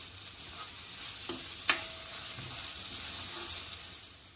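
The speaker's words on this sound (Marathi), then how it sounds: "आलं लसूण चांगली परतून घ्यायची अर्धा मिनिट।" Ginger garlic paste sautés in a pan while preparing bhendi fry masala, a faint, steady low sizzle broken by a few soft spoon scrapes and one sharper clink of the utensil against the pan.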